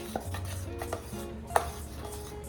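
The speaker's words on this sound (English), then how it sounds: "Okay, I'm just gonna mix her up." Vegan paleo banana bread batter with almond butter and vanilla is stirred in a bowl, giving quiet, scattered scrapes and light taps of a utensil against the dish with no talking.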